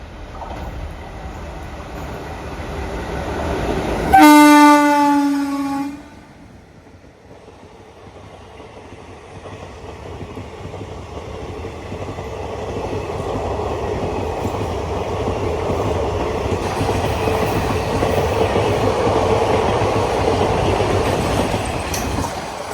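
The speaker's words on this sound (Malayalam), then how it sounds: "ഇപ്പോൾ പോയത് വഞ്ചിനാട് എക്സ്പ്രസ് ആണ്" The Vanchinad Express at a Kerala island railway station sounds a sharp horn blast, then passes with a rising, steady rumble and rattle of carriages.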